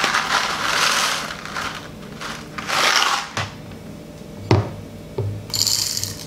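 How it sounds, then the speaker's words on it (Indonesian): A hand-cranked manual coffee grinder crushes coffee beans for a manual brew, giving gritty, crunchy grinding in uneven bursts with short pauses and a few sharper clicks, up close and alone. "saya giling dulu sebentar ya"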